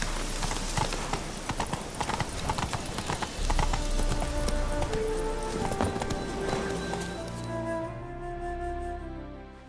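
Horse hooves clip-clop in a steady, brisk rhythm while riding in The Witcher 3, close and clear over a soft background bed, fading as the pace settles toward the end.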